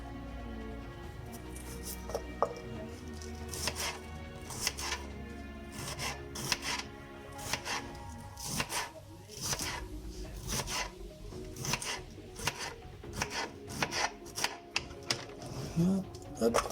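A knife chops vegetables for a late-summer salad, with a run of close, sharp taps on a board in uneven bursts and pauses. Quiet talk runs underneath.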